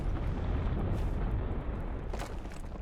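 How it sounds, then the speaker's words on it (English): A big explosion in the video game Fallout New Vegas, a loud, dense, rumbling blast that roars for several seconds and slowly fades, with a few crackling pops. "we're just gonna have to detonate more"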